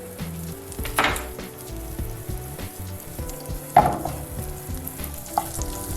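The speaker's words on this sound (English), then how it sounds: "I'm going to toss in a tablespoon of unsalted butter" Unsalted butter sizzles in a pan of hot oil, with a steady frying crackle broken by a few sharper clatters and stirring knocks, close and moderately loud.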